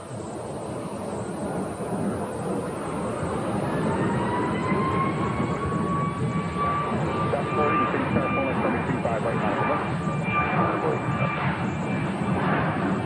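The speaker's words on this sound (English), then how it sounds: "this is a 737 MAX 8, and they'll be headed down to Orlando" Boeing 737 MAX 8 airliner at Phoenix airport bound for Orlando, a steady, loud engine roar that builds gently over about thirteen seconds, with a thin tonal whine rising through it.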